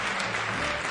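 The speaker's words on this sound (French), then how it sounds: "On les applaudit." An audience applauding an award-winning team at a youth debating tournament final, a dense burst of clapping that fills the whole brief moment.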